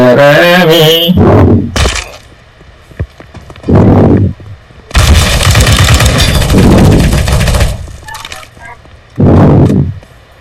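Gunfire in Counter-Strike: Global Offensive, loud close bursts of automatic and single shots separated by short pauses, with a brief game sound at the start.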